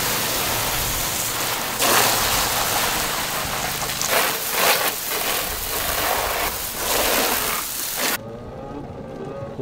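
Water sprays hard from a hose onto a four-wheeler being washed outdoors, a loud continuous hiss with surging bursts, cutting off abruptly near the end.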